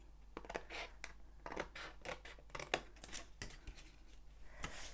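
Scissors cut through card for a pop-up box card, a close, quiet run of crisp snipping strokes in quick irregular bursts, with a soft steady hum beneath.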